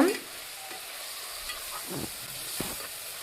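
A ladle stirs tomato and onion masala in a pan for veg biryani, giving soft scraping strokes over a steady low sizzle of frying; close and quiet, with no talk.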